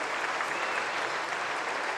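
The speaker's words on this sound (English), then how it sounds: "the loud applause goes to Randall with those 2 runs" Steady distant applause from a cricket crowd at a 1984 New Zealand v England Test match as Randall brings up his fifty, a continuous wash of clapping with no voices over it.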